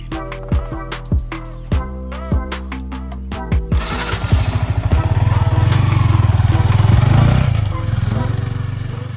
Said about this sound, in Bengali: তো চল একটু বাইকটা চালিয়ে।